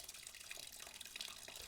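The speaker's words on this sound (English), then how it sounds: "So I'm going to flush it again with pure distilled water." Distilled water splashes and trickles through the coolant system of a Tenere 700 motorcycle during a flush. It is a faint, continuous watery patter with no voices.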